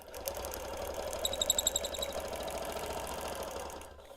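Home sewing machine stitching a Quilt of Valor quilt near a basting stitch, running steadily for about four seconds with a fast, even motor whir and a brief burst of sharper needle clicks midway, no talk.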